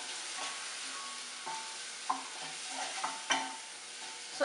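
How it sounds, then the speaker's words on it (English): Spices with green chilies and red chili powder frying in a pan for dal tadka, a soft continuous sizzle broken by several sharp spoon scrapes and clinks as the mixture is stirred. "So just fry this."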